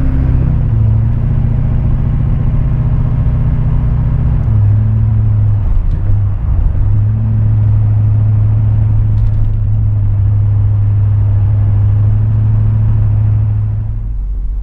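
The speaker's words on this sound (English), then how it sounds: "It has a great, really deep bass rumble to it" A Duramax diesel truck fitted with a 5 inch MBRP straight pipe exhaust idles and revs gently, giving a loud, deep, continuous bass rumble that dips briefly partway through before settling back to a steady drone.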